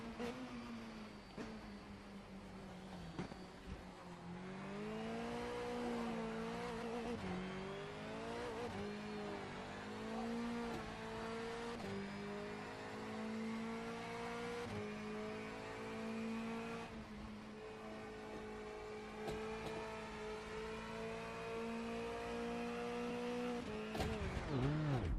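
Touring cars, front- and rear-wheel drive, lapping the Top Gear test track: a continuous loud engine note climbing and falling through gear changes, with tire squeal as the car is pushed to its limits, no talk.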